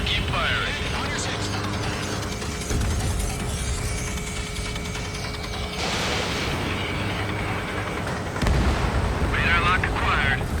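Aerial combat in Ace Combat 7, with rapid gunfire and rumbling explosions over a constant jet roar, radio voices talking over the battle.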